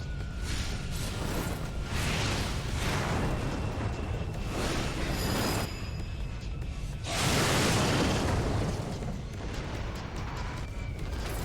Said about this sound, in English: he kills it mid-air so that the explosion doesn't impact the entire city